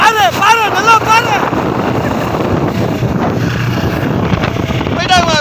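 Racing boat engines during a boat race on open water make a loud, continuous broadband roar mixed with wind buffeting, while voices call out near the start and the end.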